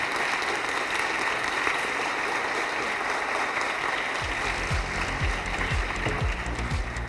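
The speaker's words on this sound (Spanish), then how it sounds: "quiero pedir un aplauso para Roberto." An audience at a talk applauds the speaker Roberto with sustained clapping from a crowd, loud and continuous. A few heavier low thumps come through in the second half.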